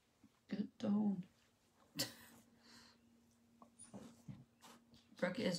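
Dogs at home give short high whimpers and snuffling breaths, close and quiet, between bursts of a voice.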